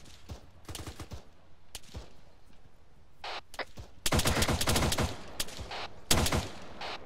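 Gunfire during a military simulation game as a unit engages contacts inside a town: scattered single shots early, then loud rapid bursts of automatic fire from about the midpoint, with sharp cracks near the end.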